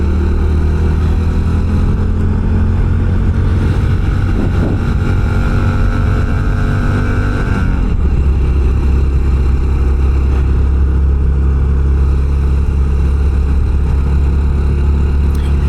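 Honda CT125 motorcycle engine labouring up a steep hill in second or third gear at a state park, a loud steady drone with a pitch change around the middle as the revs shift, no talking.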